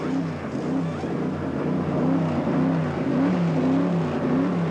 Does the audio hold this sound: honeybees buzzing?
no